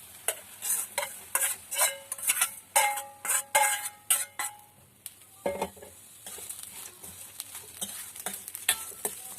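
Pirandai (adamant creeper) chutney ingredients frying in a pan, stirred with rapid rhythmic scraping and tapping strokes over a faint sizzle. Strokes are close and crisp, then pause briefly before resuming more lightly.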